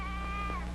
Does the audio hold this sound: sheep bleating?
yes